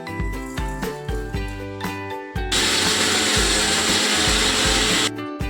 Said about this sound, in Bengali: সুজিটা আর চিনিটা আমরা মিক্সিতে মিক্স করে নেব